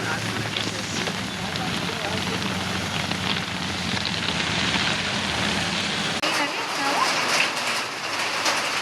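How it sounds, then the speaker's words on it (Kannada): Steady, dense rain hisses throughout, a continuous broadband wash with no breaks, fairly close and even in loudness. "ಆದರೆ ತುಂಬ ಮಳೆ ಬರ್ತಾ ಇದೆ"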